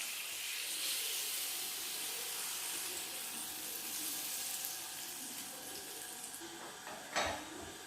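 A small glass of water is poured into an olive tagine with cinnamon and potatoes, giving a steady, faint hissing splash that runs for several seconds before a brief louder clink near the end.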